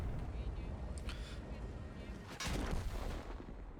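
Heavy tank cannon fire in World of Tanks, with booming shots and rumbling battle noise over a steady background and a sharp blast in the middle, partly mixed with talk.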